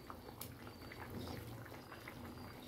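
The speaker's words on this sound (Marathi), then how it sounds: "आता त्याला उकल आला 5 मिनिटाने" Fish vegetable gravy bubbling at a low simmer in a pot, a soft steady churn of boiling liquid with faint pops, fairly quiet and close, no voices.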